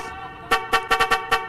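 Car horns honking on a street: a series of five short, loud, harmonic toots in quick irregular succession, close by, with no talk over them.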